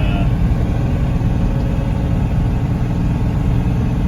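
Cummins diesel swap truck pulling a trailer uphill in third gear at about 35 mph, a steady loud low engine drone and road rumble throughout.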